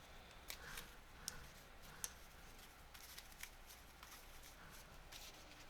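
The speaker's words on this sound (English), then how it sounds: "Yep, we shuffle again." Cardfight Vanguard trading cards being shuffled by hand at a table, a quiet run of soft riffling and light snapping clicks repeating irregularly, close and faint.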